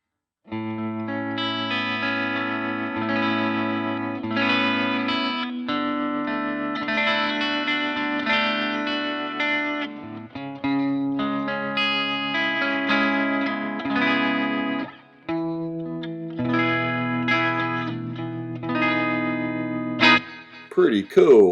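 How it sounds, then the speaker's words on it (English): Guitar played through Vox VT20X and Fender Mustang LT25 amps mixed on a Zoom LiveTrak L-12 rings out with a ping pong delay, chords and single notes echoing back and forth with chorus and distortion, loud and continuous with a voice briefly at the end. "I've added a ping pong sound here."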